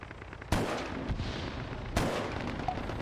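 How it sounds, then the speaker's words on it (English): Two sharp, loud gunshots from a tower in the video game Arma 3 King of the Hill crack about a second and a half apart, each followed by a rolling echo, with no talk. "I've heard gunfire coming from the tower here."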